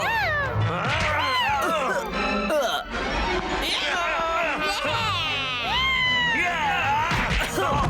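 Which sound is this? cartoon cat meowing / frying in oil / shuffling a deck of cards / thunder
cartoon cat meowing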